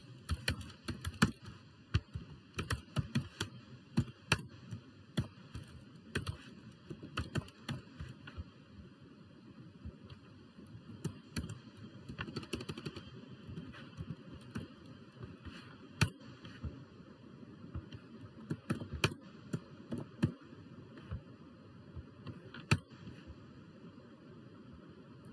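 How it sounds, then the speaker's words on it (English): Steady typing of code on a computer keyboard, with irregular clicks and taps continuing throughout at close range over a faint background hum. "let me write the code that we used to type"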